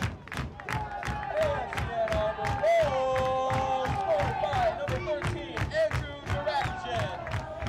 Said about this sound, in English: as the Mighty Oak crowd goes wild